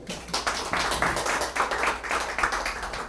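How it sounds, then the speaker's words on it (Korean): Audience applause after a lecture at an indoor talk event: moderate clapping from a modest crowd, uneven rhythmic bursts of hand claps lasting a few seconds, fairly close and without speech. "다시 한번 박수 부탁드리겠습니다."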